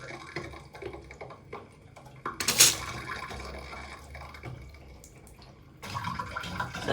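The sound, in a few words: water tap opened, running water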